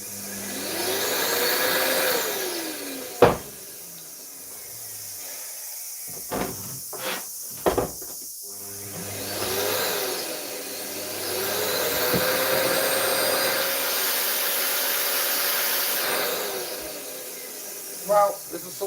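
A Hoover vacuum cleaner with a faulty power button whines with a loud, steady hiss that drops out between short knocks and clicks, then starts up again, rising and falling in pitch as it spins up and down.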